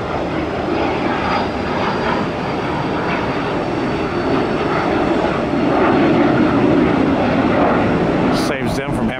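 A Cessna Citation jet on an airport runway gives off a steady, loud engine roar that holds throughout, and a voice talks briefly over it.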